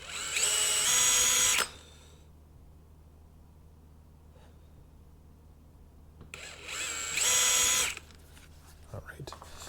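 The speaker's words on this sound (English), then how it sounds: "Let's go ahead and drill the 1/8 inch holes through." A power drill drills 1/8 inch holes to mount a mirror on a Polaris Ranger, with two loud, close bursts of high whirring, each about a second and a half long, separated by quieter room noise and a faint breath.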